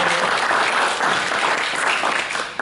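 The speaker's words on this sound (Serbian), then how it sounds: "ali možete ih nagraditi aplauzom." An audience at a debate forum in Pale bursts into steady, dense applause, loud and close, many hands clapping evenly for the whole stretch with no voices over it.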